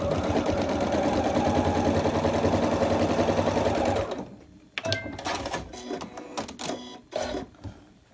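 A sewing machine stitches pinwheel fabric, a dense, fast mechanical whirr for about four seconds before stopping, then scattered clicks and handling knocks as the fabric is shifted.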